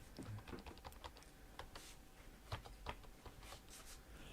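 Computer keyboard typing near a B650 gaming PC setup, a steady run of light, quick key clicks with a few sharper presses, close and alone.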